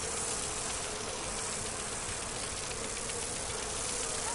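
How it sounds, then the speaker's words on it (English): Steady, dense swarm of bees buzzing in Dragon Age: Inquisition, a continuous loud drone with no talk over it. "Bees!"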